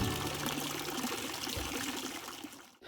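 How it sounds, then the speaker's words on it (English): Water pours steadily from an aquaponics system into a family pond as a small waterfall, a continuous close splashing rush that dips briefly at the end. "as it falls out of that system, it gives us this beautiful waterfall."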